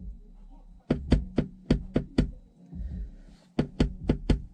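A passenger front door speaker in a car thumps out sharp bass hits in two quick bursts of five or six beats, close and punchy with short pauses between.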